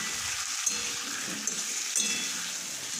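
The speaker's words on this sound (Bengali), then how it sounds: "এইদিকে পুঁই কুমড়ো আলুটা ভেজে নিচ্ছি লাল লাল করে।" Malabar spinach stems, pumpkin and potatoes fry in hot oil with a steady bright sizzle, broken by a few soft clinks of a stirring utensil against the pan.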